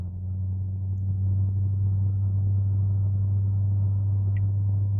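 Straight-piped C5 Corvette engine idling close by, a deep, steady, loud rumble that holds evenly with no talk over it.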